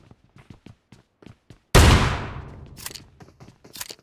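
A single loud M1014 shotgun blast in the mobile game BGMI, played on the Livik map, rings out sharply and decays over about a second, amid scattered quieter clicks, footsteps and distant game shots.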